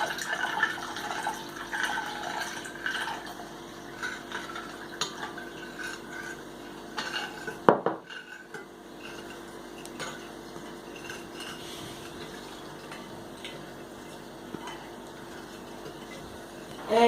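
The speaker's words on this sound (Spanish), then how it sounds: "seguir revolviendo. Y mientras revolvemos le echamos agua fría." A spoon scrapes and clinks steadily around a pot while a mixture is stirred and cold water is poured in, with a sharp knock partway through and continuous kitchen clatter.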